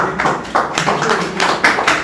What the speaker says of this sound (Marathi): टाळ्या वाजव सगळ्यांना, खरंच टाळ्या वाजव.